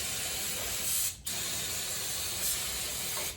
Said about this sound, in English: This crank and everything is going to be all sprayed down.